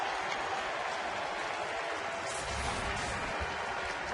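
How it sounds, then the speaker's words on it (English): Polite applause from a ballpark crowd as a batter is announced to the plate, a steady even wash of clapping spread across the stands, moderately loud and continuous without distinct voices. "Polite applause as Freddie Sanchez is announced to the plate"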